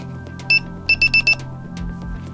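Morse code tones for the letter A: a single clear, loud beep, then a brief pause and four quick beeps in a row, with no other sound competing.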